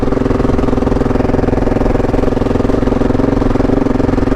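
A KTM 690 Enduro R single-cylinder motorcycle engine held at about 2,500 RPM, a loud, close, steady rapid thumping drone with a dense mechanical clatter and no talking.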